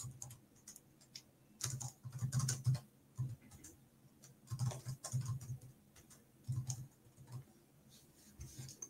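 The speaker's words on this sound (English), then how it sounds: "So let me type something in right now." Quiet, close typing on a computer keyboard comes in irregular bursts of soft clicking keystrokes separated by short pauses, with no other sound competing.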